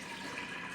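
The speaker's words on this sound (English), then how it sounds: "So this is some very, very warm water. I'm going to pour that into my jar." Very warm water, about a cup, poured into a jar for proofing yeast: a short, soft, steady splash and trickle, close and quiet.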